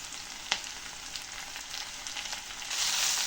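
Mint leaves sauté in a pan with a steady, close sizzle, one sharp clack early on, and the hiss swelling louder toward the end.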